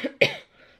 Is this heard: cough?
yes